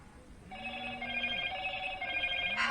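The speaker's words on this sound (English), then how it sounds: "And the phone is now going." A landline telephone rings in a home workshop during work on a Triumph Bonneville motorcycle, its bright warbling bell sustained and steady, fairly loud and close, with a low hum underneath and a short burst of noise at the end.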